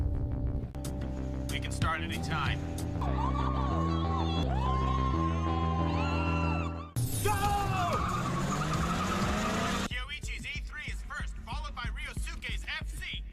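Racing cars screaming down the Mount Akina mountain pass, a Mazda RX-7 and Lancer Evo among them, with loud revving engines shifting pitch, tyre squeals and a dense music-like soundtrack running throughout.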